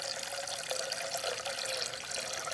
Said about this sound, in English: I'm gonna start by filling this saucepan